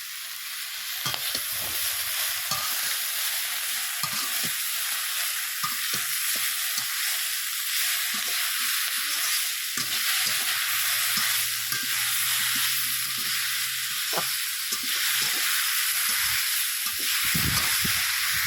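Mixed vegetables with spinach sizzle steadily in hot oil in a wok after salt is added, with repeated scraping stir strokes over a continuous bright frying hiss.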